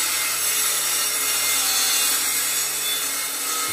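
Workers cut wood on a home garage renovation site, giving a loud, continuous, close saw roar with a harsh rasping texture that holds steady throughout, and no one talks.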